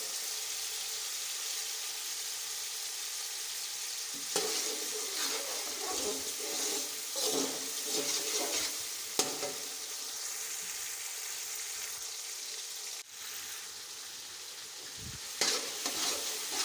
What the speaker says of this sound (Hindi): टमाटर का पानी खुश्क होने तक पका लेंगे।